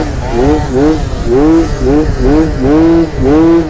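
A Yamaha Aerox 70cc scooter revs repeatedly in sharp rising and falling bursts during a wheelie session, several throttle blips close by and loud, with a faint voice briefly underneath.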